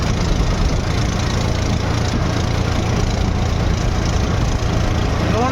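A tractor engine runs steadily while driving over a rough, potholed road, producing a loud, continuous rumble and roar close by without a break.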